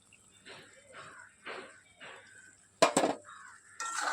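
Ground poppy seed paste stirred into hot oil in a pan for a home-style ridge gourd and potato posto, with soft scraping and a couple of sharp metallic clinks of the spatula against the pan, under a speaking voice.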